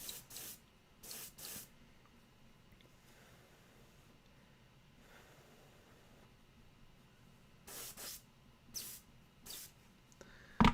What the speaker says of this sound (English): Spitty airbrush.